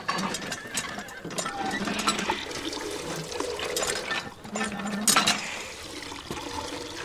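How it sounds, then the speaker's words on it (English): Water splashes and pours as a small bucket is filled and fetched, a steady nearby wash of liquid with a few louder sloshes. "This bucket is so small. It'll take 3 trips to get enough water."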